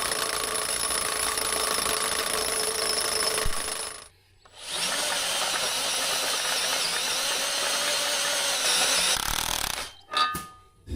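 A power drill boring a 1.25 inch hole in stone, a loud, sustained high-pitched grinding whine that cuts out briefly midway, resumes steadily, then stops with a few short bursts at the end.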